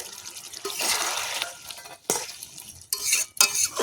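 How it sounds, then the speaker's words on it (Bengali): Fried potatoes being stirred into a simmering chicken curry: scraping spoon-on-pot strokes and wet stirring come in bursts, with sharp metallic clatters and a soft sizzle between, close and loud with no voices. "এই মাংসে জল বেরিয়ে গেছে, এবারে এর মধ্যে দিয়ে দেব ভেজে রাখা আলু"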